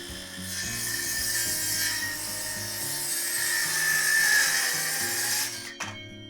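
A Craftsman V20 cordless circular saw cuts through wood with a close, buzzing whine of blade and motor. The rasping cut holds for several seconds, then stops abruptly as the saw winds down.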